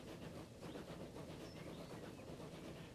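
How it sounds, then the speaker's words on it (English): A train in Transport Fever 2 runs along its tracks with a steady rumbling hiss and faint rhythmic clatter, heard alone at low level. "That's a train."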